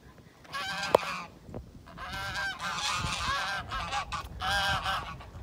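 A flock of geese in a farmyard honks close by in several loud bursts of overlapping nasal calls, separated by brief quieter gaps.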